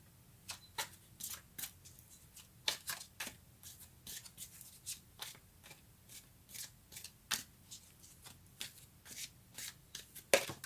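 Tarot cards being shuffled by hand: a quiet, close series of crisp riffling flicks in an irregular rhythm that continues steadily, ending with a slightly sharper snap as a card flies out.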